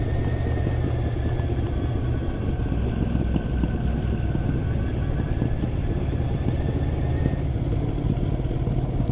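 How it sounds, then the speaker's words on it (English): A motorcycle engine pops and rumbles while climbing Hardknott Pass, a loud, continuous low growl close by with rapid irregular crackles running through it and no talking. "that bike popping away now"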